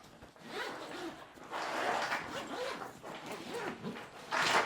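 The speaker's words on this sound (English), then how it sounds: "Zips all the way around, and then we just expand it." A zipper on a NICECNC motorcycle luggage rack bag is pulled open in several quick, rasping strokes, close and moderately loud.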